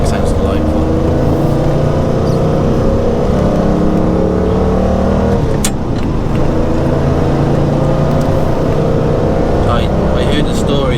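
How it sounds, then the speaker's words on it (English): Citroën SM 2.7-litre Maserati V6 running, a steady, loud mechanical drone with smooth exhaust tone that dips briefly midway, heard close and without any voice. "That V6 sounds delightful."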